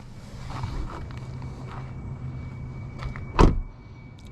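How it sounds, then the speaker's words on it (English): A single solid door thud on a 2025 Chevy Equinox stands out near the end over a low, steady background hum, with faint handling sounds before it. "the doors sound pretty solid when you close them"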